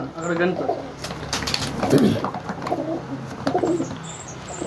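A male pigeon of the Dhooma line coos in soft repeated rumbling phrases, close by, over a background of other birds and someone talking.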